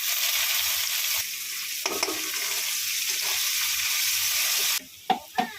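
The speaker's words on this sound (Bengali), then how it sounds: "পেঁয়াজগুলো কুচিয়ে রেখেছিলাম, দিয়ে দিলাম" Chopped onions hit hot oil already seasoned with dry red chillies, bay leaf and cumin seeds, giving a bright continuous sizzle with stirring scrapes, then a quieter stretch with a few short clatters near the end; no talking.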